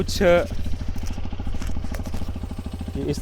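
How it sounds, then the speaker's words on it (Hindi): Hero Xpulse 210 motorcycle idling up close, a low, even exhaust thrum with rapid regular pulses, briefly revving near the start and again at the end. "कुछ एग्जॉस्ट नोट है जो कि काफ़ी बढ़िया लगता है"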